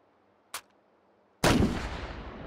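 Single loud shot from a Draco AK pistol in the VR shooter Hot Dogs, Horseshoes & Hand Grenades at a target range, following a small click, with a long decaying echo after.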